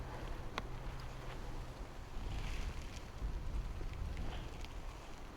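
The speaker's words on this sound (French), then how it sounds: "Ah, Un beau petit vent" Light wind blowing outdoors on a trail ride, a soft continuous rush with gentle gusts and rumbling microphone buffeting, no voices.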